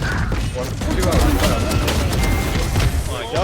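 Grenade blast and rapid gunfire inside a VALORANT match, a dense, continuous barrage of shots and impacts with a boom, heard under excited voices talking.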